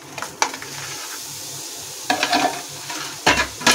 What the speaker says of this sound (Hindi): अब मैं इसके अंदर ये खोया डाल दूंगी।